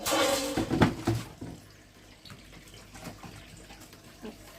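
Running water splashes loudly at first as items are washed under a tap, then settles into a quieter trickle with occasional small splashes.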